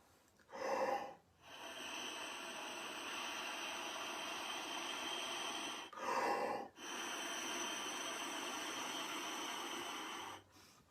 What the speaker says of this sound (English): I put it to my lips and I practice breathing through it